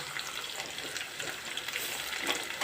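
Vegetables fry in a pan for a palya, giving a faint, steady sizzle with soft hissing crackle throughout and no voices.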